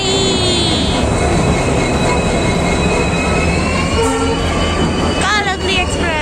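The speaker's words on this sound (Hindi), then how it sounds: "और ये हमारी ट्रेन आ गई" A passenger express train pulling into a station, loud rumbling wheels and long high squeals of braking steel, with brief voices nearby and busy platform noise.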